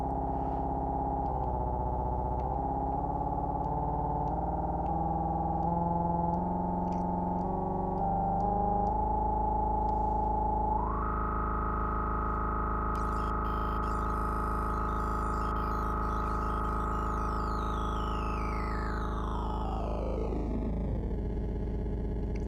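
A sustained Deluge synthesizer tone with reverb turned down drones with shifting harmonics, then jumps up in pitch and later sweeps downward, dry and steady throughout.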